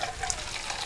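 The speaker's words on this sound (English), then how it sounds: "We'll put some water in our can." Water pours into an emptied food can while chili con carne cooks, making a steady, close splashing rush that runs unbroken for just under a second.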